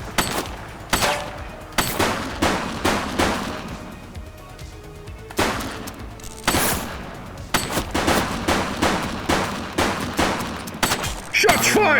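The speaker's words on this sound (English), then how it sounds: "Shots fired." Gunfire in the police game The Precinct: repeated loud, sharp shots in clusters and rapid bursts with brief gaps between them, close and punchy, building into a dense volley near the end.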